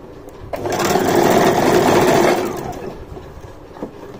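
A sewing machine stitching underwear fabric runs in one loud, close burst of about two seconds, whirring steadily before slowing to a stop, with quiet handling sounds around it.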